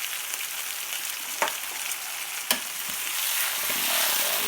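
A London broil steak sears in a hot pan, giving a steady close sizzle that swells slightly louder toward the end, with two brief sharp pops from the fat.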